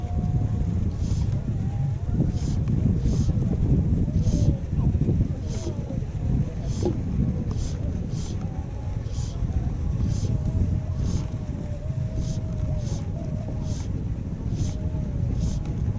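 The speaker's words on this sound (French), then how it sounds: "toujours le vent contre moi, c'est compliqué" Wind gusting along the Rio Caldo in Gerês, Portugal, during black bass fly fishing: a steady, close roar buffeting the microphone for the whole stretch, with faint higher tones flickering above it.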